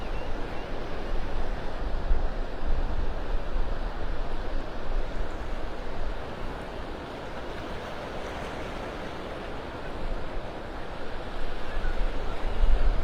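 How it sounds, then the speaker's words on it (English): Steady wind buffeting outdoors on a beach walk near Clam Pass, North Naples, Florida, a broad continuous rush with surf-like roar underneath, no voices. "It is very windy out here."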